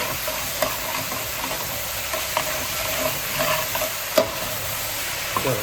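Potatoes softening as they fry in a pan for a traditional Spanish tortilla, giving a continuous close sizzle with occasional light stirring clicks, no voices.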